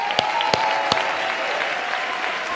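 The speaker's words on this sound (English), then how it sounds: "a huge round of applause for Lara Bai for directing today's show." Theatre audience at an awards show breaks into dense, sustained applause, a loud wash of clapping filling the room with a few sharper nearby claps standing out early on.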